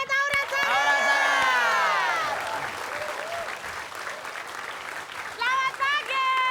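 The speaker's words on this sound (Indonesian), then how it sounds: "kita tepuk tangan buat Aura sana." Studio audience applause at an Indonesian TV comedy show, loud and sustained, mixed with excited shouting and cheering voices, fading slightly before a fresh burst near the end.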